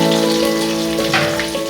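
Chopped onion frying in a pan beside the garlic, a dense continuous sizzle and crackle heard up close, with no talking.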